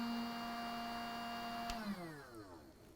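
A Dewalt 20V Max cordless DCE530B heat gun roars on high mode with a steady whining fan drone, then is switched off and spins down with a falling pitch.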